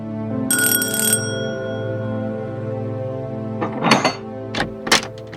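A bright electronic doorbell chime rings once and lingers as it fades, followed a few seconds later by a handful of clattering knocks and thumps nearby.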